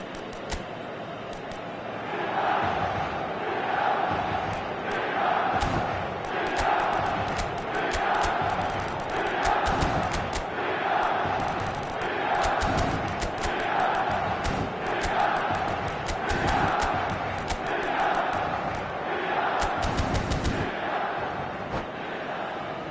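A packed stadium crowd at an eFootball video game match, a loud sustained roar with rhythmic waves of chanting and sharp accented claps or drum hits, under a commentator's voice.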